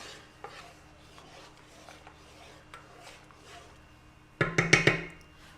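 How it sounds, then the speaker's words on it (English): Quiet, irregular scraping of a spoon in a pot of boiling cranberry jelly, then a burst of louder clinking and stirring strokes near the end. "as soon as I start to stir this, it stops boiling."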